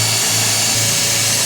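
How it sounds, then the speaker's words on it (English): A power drill bores holes at a workbench while making a brake light switch for a Willys Jeep CJ-2A, a loud close whirring burst that briefly dips and rises again. "I'm just going to drill 2 holes where our marks are."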